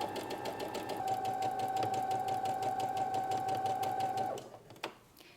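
A sewing machine stitches a straight seam up to a pin on a McCall's 8035 garment with the needle shifted left, running steadily and close for about four seconds before stopping, followed by a brief click.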